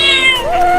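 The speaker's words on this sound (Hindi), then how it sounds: "वहाँ बिल्ली रोड पर है।" A cartoon cat gives a single short meow, loud and close, its pitch sliding downward then settling into a steady whining tone.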